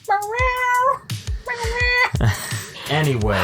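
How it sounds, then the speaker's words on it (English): A cat in a playpen meows loudly several times in a row, drawn-out tonal cries close by, with a person speaking briefly near the end. "if you can hear her meowing"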